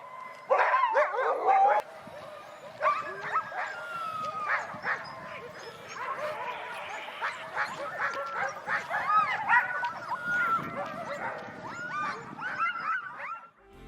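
Dogs at kennels in a roadside meadow near a village on the Northwest Passage keep up a busy overlapping chorus of barks, yips, whimpers and howls at moderate distance, with hardly a pause.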